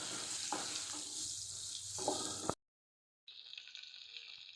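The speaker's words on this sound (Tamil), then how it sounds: "நான் குருமிளகு பொடி போடுறேன். போட்டு நல்லா வதக்கிக்கோங்க." Salna ingredients sauté with black pepper powder, a steady frying hiss with a few stirring scrapes, then a brief silence before a fainter sizzle resumes.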